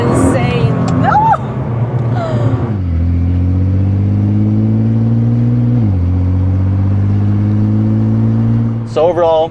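Stock-exhaust Nissan GT-R pulling hard in first gear, a loud, close engine roar with steady rising harmonics and a brief gear-change dip, voices exclaiming over the start and end.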